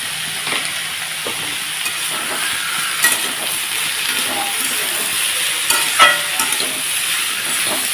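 Chopped snake gourd stir-fries with browned onions in a pan, giving a continuous close sizzle with occasional scrapes and clicks of a spatula, steady and moderately loud, with no talking.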